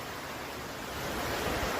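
A small creek flowing among trees along the Pacific Crest Trail near Belden, a steady broadband rush of water that stays even and close, with no voices.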